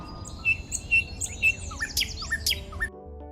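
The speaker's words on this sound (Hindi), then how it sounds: "तुम्हारा ये तोता तो बहुत होशियार है।" A parrot gives a rapid series of sharp, bright chirps and short squawks, loud and close, with no talking over them before it cuts to near silence.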